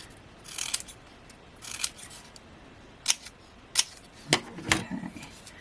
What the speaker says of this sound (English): Let's grab some scissors, because we're definitely going to need to cut some down.